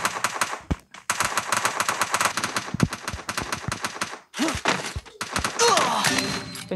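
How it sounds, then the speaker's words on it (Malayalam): Rapid automatic gunfire in the Free Fire battle game on the Bermuda map, dense bursts of shots broken by short pauses, close and sharp, ending in mixed game effects. "വെടിയുണ്ടയുടെ ശബ്ദം, വെടിയുടെ ശബ്ദങ്ങൾ കേൾക്കുന്നുണ്ട്"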